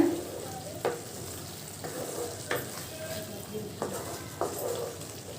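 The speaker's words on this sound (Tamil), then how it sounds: "இதை சேர்த்து அப்படியே வந்து கலந்து விடுங்க" Curry leaves and chopped coriander stirred into a squid gravy in a pan, with a low simmering sizzle broken by several distinct scraping stirs at irregular intervals.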